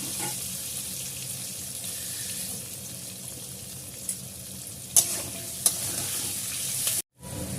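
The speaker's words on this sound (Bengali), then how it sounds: "তেলটা গরম হয়ে গেলে আমি আগে আলুগুলো ভেজে নেব" Potato pieces fry in hot oil in a wok, giving a soft, continuous sizzle at moderate distance, with a few sharp clinks of a utensil late in the clip.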